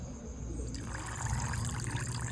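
Rose water is poured while mutton biryani is being cooked, a soft, close trickle of liquid splashing and gurgling for a couple of seconds over faint kitchen background.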